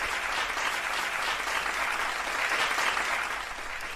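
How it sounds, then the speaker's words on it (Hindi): Steady hand-clapping applause from a group fills the moment, dense and continuous at moderate volume, easing slightly near the end. "सॉरी जीन, आपकी इतनी अच्छी बातें सुन के मुझे ताली बजाने की इच्छा हुई"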